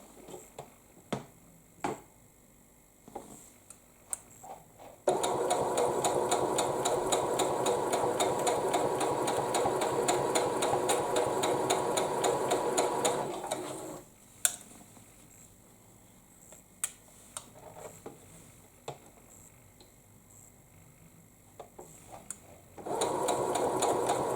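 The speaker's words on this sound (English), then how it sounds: "sew the final edges on these 2 pieces as well" A sewing machine runs in two long sustained bursts of steady whirring as it stitches the final edges of quilt pieces, close up, with short pauses of clicks and handling noise between runs and no talk.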